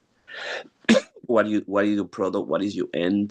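A single sharp sneeze near the start, quickly followed by someone talking close up.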